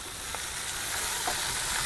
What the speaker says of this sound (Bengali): লাউটা কিন্তু ওদিকে ভাজাও হচ্ছে